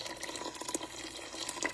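Water running steadily into a cooking pot for bean soup, a continuous faint splashing fill with small drips and clinks, no voices.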